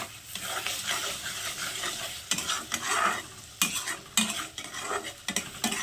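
Shrimp being stirred into a sour-spicy tomato pickle in a pan, close scraping and clinking strokes of a spoon against the pan over a soft simmering sizzle, no talk.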